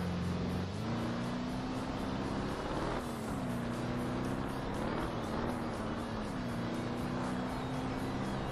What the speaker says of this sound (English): I really don't like this engine note. This is quiet.